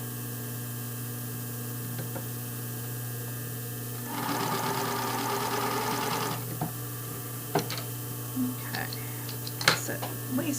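A sewing machine stitches lace onto a panty waistband in the round, with one steady burst of rapid needle chatter lasting about two seconds over a constant motor hum, followed by small handling clicks.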